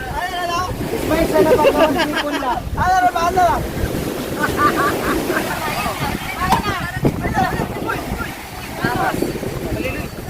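Strong gusts of wind batter the microphone outdoors at a 73rd birthday party, a loud, uneven rushing roar under cheerful singing and chatter from the family gathered around.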